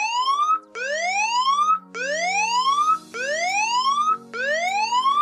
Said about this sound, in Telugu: ఆటోమేటిక్గా ఇది సైరన్ మోగుతూనే ఉంటుంది